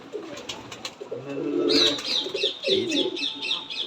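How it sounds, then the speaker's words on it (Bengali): Rajshahi giribaj pigeons coo repeatedly in a loft, a series of close, rhythmic rolling calls with faint chirps and brief overlapping sounds, no voices. "অনেক অনেক সুন্দর কিন্তু কবুতর"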